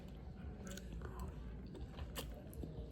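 Close, soft chewing and biting of ramen cooked with squash and chayote, wet mouth sounds with a few crisp clicks, no talk over it.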